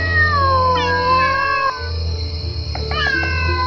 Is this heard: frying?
no